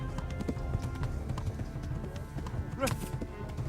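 Horse hooves clip-clopping at a quick, steady gallop in the medieval game Kingdom Come: Deliverance, rhythmic and moderately close, with a faint voice-like tone briefly rising near the end.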